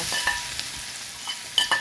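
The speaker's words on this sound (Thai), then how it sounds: "ตอนนี้น้ำมันเริ่มร้อนแล้วนะคะ เพื่อนๆ ใส่พริกผัดลงไปเลยค่ะ" Chilies stir-fried in hot oil in a pan, steady sizzling hiss with a few scraping clicks from a spatula stirring, no voices.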